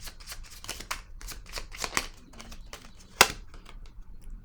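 Tarot cards being shuffled and drawn by hand, a run of close, crisp riffling and slapping card sounds with one sharper snap near the end, no talking.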